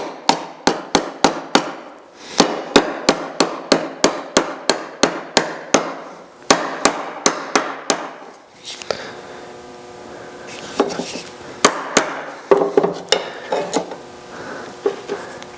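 Sharp hammer blows drive a new shaft seal into a Monarch lathe during a rebuild, a fast series of close, loud metallic strikes in bursts with short pauses, later mixed with ringing and scraping.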